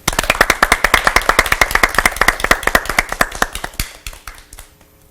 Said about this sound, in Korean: 우리 김명선 간사님을 박수로 환영해 주시기 바랍니다.